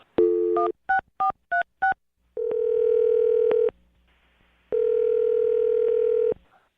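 A telephone call is dialed: a quick run of five touch-tone beeps, then two long steady ringback tones separated by a pause, clear and close with no talking.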